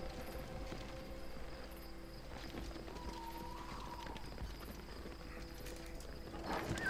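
Horses clatter across a battlefield in Battle for Middle-earth II, their hooves making a steady, low, rumbling clip-clop under a dense, fairly quiet bed of battle noise, with a faint whinny partway through.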